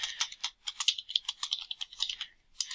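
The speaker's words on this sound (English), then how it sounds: "And I can type in it." Close, quiet typing on a computer keyboard into a Word document, with quick irregular runs of crisp key clicks broken by brief pauses and no talk.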